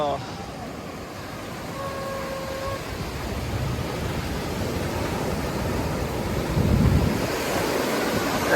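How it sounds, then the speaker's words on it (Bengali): Ocean waves break on Puri beach in a broad, rolling wash with wind buffeting the microphone. One surge swells louder toward the end, and voices are heard faintly at the start. "এই ঢেউ এলো"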